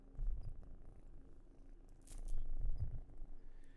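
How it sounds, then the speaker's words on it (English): Close, soft purring of a domestic cat, a low rhythmic rumble pulsing with each breath, faint and steady with a brief rustle in the middle. "Let me see if you can hear her purring."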